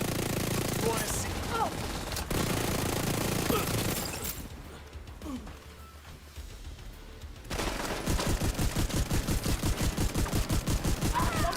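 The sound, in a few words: gunfire from the video game The Division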